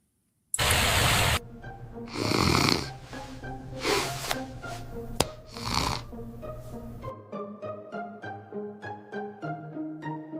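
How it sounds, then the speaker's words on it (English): Loud, rough snoring in repeated heavy bursts for several seconds, then giving way to quieter tonal sounds; no talking. "You're snoring very loudly and stupidly all over the place."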